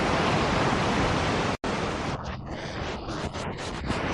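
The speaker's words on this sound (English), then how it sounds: "The waves stir up the sand." Rough surf rolling onto a sandy southern Brazil coast in cold, windy weather, a loud, broad roar broken by a brief dropout, then continuing with uneven washing surges.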